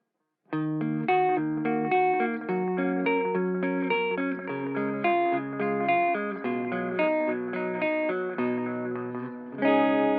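Electric guitar run through an MXR Carbon Copy Deluxe analog delay pedal with its bright switch engaged into a cabinet simulator, a steady line of picked notes trailed by repeating echoes, clear and unaccompanied by speech.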